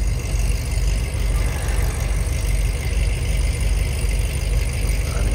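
A deep, steady engine rumble from a Chevrolet SS idling nearby in traffic, low and continuous with a faint rough burble, no voices.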